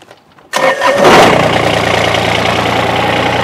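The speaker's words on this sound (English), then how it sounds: "I'll fire up the tractor here and show you what you need to do to get your tractor shut off" A Kubota BX compact tractor engine cranks briefly and catches, then settles into a loud, steady diesel idle close by, with no talking.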